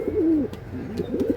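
Domestic pigeons at a pigeon sale in Hooghly coo softly nearby, a few rolling, throaty calls overlapping in a short burst with faint background noise.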